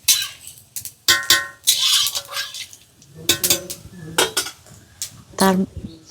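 Cumin and fenugreek seeds stirred in a pan for a Bengali prawn dish, heard as sharp, irregular metal-on-metal scrapes and clinks of a spoon against the pan, close and loud with brief quiet gaps.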